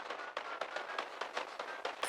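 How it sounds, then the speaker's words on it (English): Rapid bursts of distant gunfire in the video game Arma Reforger crackle in irregular succession, sharp and dense, with no voices present. "I hear gunfire."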